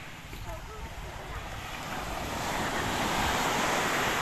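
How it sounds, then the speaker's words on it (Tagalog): Steady roar of ocean surf at a fish port in Tanza, Cavite, with wind buffeting the microphone, the wash building louder toward the end; faint voices sit low underneath. "Sarap ng alon."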